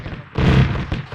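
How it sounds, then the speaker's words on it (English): Anti-aircraft cannon fire from a ZU gun in a military video game, a loud booming burst with a second shot trailing close behind, no talking. "That's not an autocannon, that sounds like a AAA cannon."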